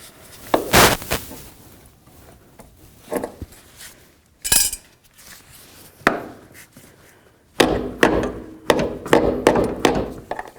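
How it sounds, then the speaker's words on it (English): Sharp metallic hammer blows ring out in irregular bursts as a hinge pin is driven into a 1994-2004 Chevy S-10 door, a few isolated strikes and then a quicker cluster of taps, close and loud. "we can continue on with our hammer and drive it in."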